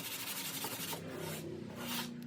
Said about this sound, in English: Clean up the edges with a sanding block